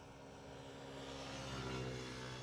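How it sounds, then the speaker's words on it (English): A Royal Air Maroc airliner rolling on the runway at Schiphol, heard from a distance as a steady, faint engine rumble and roar that builds slightly in loudness toward the end. "Royal Air Maroc is rolling on the runway."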